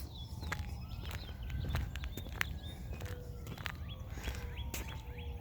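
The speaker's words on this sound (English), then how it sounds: "That sounds like a spring morning though with these birds." Several birds chirp and tweet in short bursts over a soft outdoor background rumble, with occasional footstep-like knocks.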